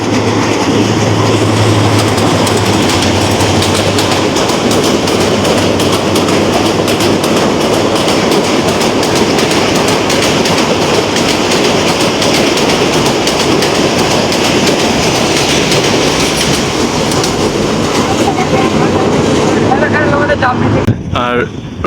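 The Narsingdi–Ghorashal train crosses a bridge over the Shitalakshya river in a loud, continuous rumble with rhythmic wheel clatter and heavy wind buffeting on the microphone.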